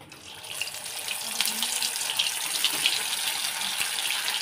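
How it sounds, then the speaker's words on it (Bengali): Soybean kebabs frying in oil in a pan, a bright steady hiss and crackle that swells after the start and holds at a moderate level, with a few faint clicks. "ভালো করে ভেজে নেব।"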